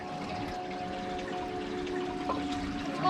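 River water flowing where the stream disappears underground in a dark cave-like spot on the Valle Invisible trail near Llanes, Asturias; a steady, faint wash of rushing water with a low continuous hum, no talking.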